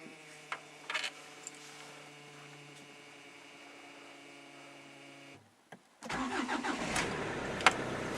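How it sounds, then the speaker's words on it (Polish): A Hyundai Santa Fe with a 2.0 CRDi diesel engine that has trouble starting fires up after a quiet idle hum and a brief pause, then settles into a louder, rough diesel running note. "Samochód odpala, ja go tak zostawię na chwilę, niech sobie popracuje."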